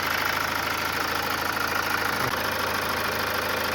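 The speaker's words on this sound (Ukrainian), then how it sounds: "Зараз я відкрию капот і послухаємо, як працює двигун." 2015 Mazda CX-5 2.2 diesel engine idling with the hood open, a steady close rattling diesel clatter with even rhythmic knocking, continuous throughout.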